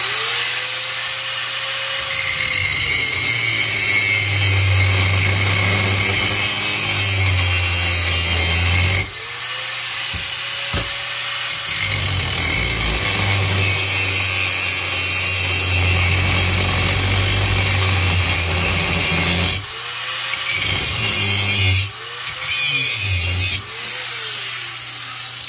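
A power tool grinds open the seam of a scrap transformer's steel casing to get at the copper, a loud, continuous rasping whine that rises and dips as it bites, with brief pauses around the 9 and 20 second marks.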